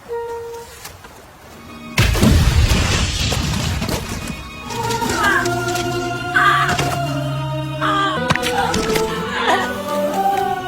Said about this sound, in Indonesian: Daigo menjauh dan kemudian meledak.